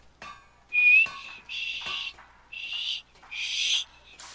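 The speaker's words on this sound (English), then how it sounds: "How about if I whistle a little bit?" A person whistles a short, wavering tune in four or five loud, clear bursts separated by brief pauses, close and with no talk over it.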